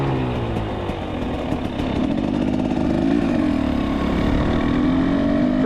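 A carbureted TX300 two-stroke trail bike engine runs close by with a steady, buzzy drone whose pitch shifts gradually as the throttle changes, without any voices.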